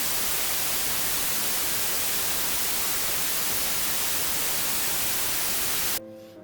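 Unprocessed white noise hisses loud and even for about six seconds, a flat, dense static wash, then drops away abruptly into near quiet.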